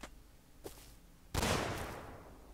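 A grenade blast in the survival game Rust erupts loud and close after two quieter thumps, then rumbles and decays over about a second with no voices.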